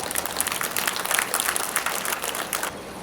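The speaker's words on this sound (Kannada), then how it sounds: "ಚಪ್ಪಾಳೆ ಬರಬೇಕು ಸ್ಟಾರ್ಟ್ ಮಾಡುವ ಅಂತ." Guests at a wedding reception clapping together, a steady dense patter of many hands at moderate distance that continues for about three seconds and thins slightly at the end.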